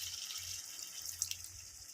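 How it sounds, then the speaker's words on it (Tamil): Water pours into a pan of spicy pepper chicken after frying, a steady hissing, splashing flow close by with a few brief louder splashes, no voices. "இப்போது இந்த டிஷ்க்கு தேவையான தண்ணி நம்ம ஆட் பண்ணிக்கலாம்."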